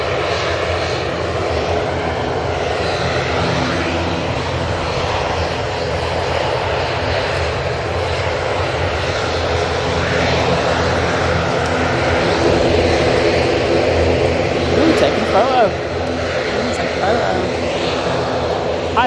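A passenger airplane at Manchester Airport, its engines a loud continuous roar that holds steady throughout, with people chatting nearby under the noise.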